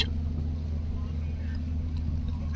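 Steady low engine drone and rushing water from a fast-moving ship at sea, a constant close rumble with no breaks.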